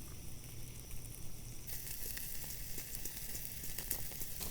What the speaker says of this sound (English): They're getting flame seared right now.